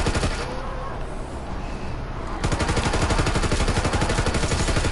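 Rapid sustained machine gun fire in World War 2 Zombies, loud continuous automatic bursts, becoming steadier and more rhythmic midway.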